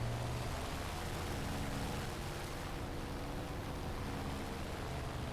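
The twin engines of a BF-110 aircraft in the flight game War Thunder make a constant loud, broadband drone with no pauses or changes in level.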